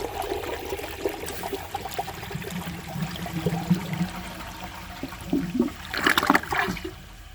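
A 1996 Universal-Rundle Atlas toilet flushes with a washcloth in the bowl, water swirling and trickling steadily before a louder gurgling rush near the end as the bowl drains.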